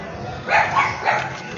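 A dog playing with a ball on a home street gives a few short yips and barks in quick succession, close and fairly loud.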